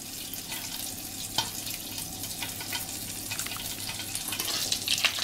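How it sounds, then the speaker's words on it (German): Vegetable broth is poured over fennel bulbs in a hot pan, setting off a steady, close hiss and sizzle that swells toward the end, with faint splashes and clinks. "So, nochmal ein bisschen Gemüsebrühe oben drüber."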